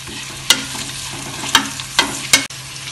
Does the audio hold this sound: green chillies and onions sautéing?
yes